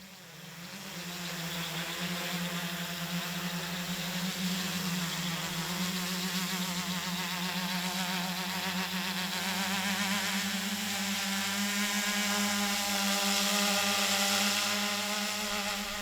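A small drone hovering and oscillating in flight while carrying a Coke can payload, a loud, steady, high-pitched propeller buzz and whine with a wavering pitch, close by and alone, with no talking.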